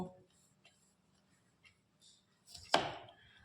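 A knife cuts mankochu (giant taro) into small pieces in a kitchen: a few faint taps, then one louder, sharp chop near the end, with soft talking in the background.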